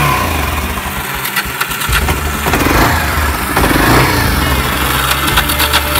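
ATV engine running near and loud with the throttle opened, a rough rumbling idle that swells into revving surges with no talk over it.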